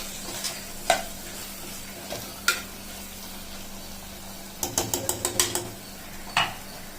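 Stirring a prawn curry in a pan: a spoon scrapes and clinks against the metal in scattered strokes, with a quick burst of knocks near the end, over a faint steady sizzle, close and moderately loud.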